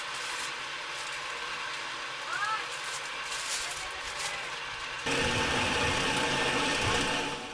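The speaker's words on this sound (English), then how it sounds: "As the machine spins, the heater melts the sugar, and the liquid is pushed out through tiny openings." A cotton candy machine whirs steadily as its heater melts sugar in the spinning head, a continuous close mechanical hum that grows louder and denser partway through.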